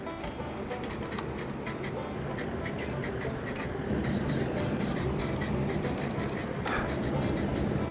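Short hissing bursts of spray paint laying a camouflage base coat onto a GoPro Hero 3 case, repeated in quick rhythmic pulses close by over steady background noise.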